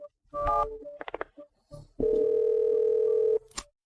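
A telephone dial tone plays while someone places a call: one steady, loud, continuous tone lasts over a second and stops abruptly. Short scattered sounds come before it.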